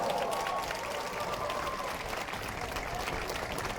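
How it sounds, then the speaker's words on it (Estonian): Open-air crowd in Tallinn's Old Town applauding after a radio choir concert, even continuous clapping with a faint voice briefly audible at the start. "Aplaus!"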